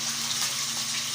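Fish frying in hot oil for a lunchtime meal gives a steady, bright, hissing sizzle at moderate level with no talking.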